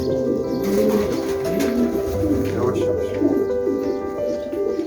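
Racing and roller pigeons coo inside a coop, a steady low murmur of overlapping calls with someone speaking briefly over them.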